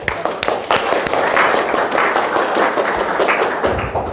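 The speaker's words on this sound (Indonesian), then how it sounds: "Tepuk tangan dulu." Applause from a student audience at a high school talk, a dense, loud burst of many hands clapping that carries steadily for about four seconds and tapers slightly at the end.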